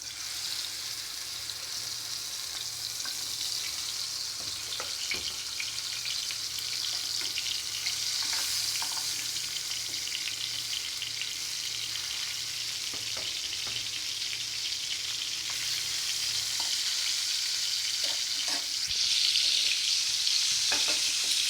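Spiced rui fish frying in hot oil, a steady dense sizzle that fills the whole stretch at even loudness, with occasional faint clinks and scrapes over it and no voices.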